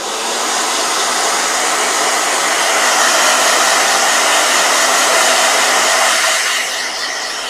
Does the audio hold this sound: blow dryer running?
yes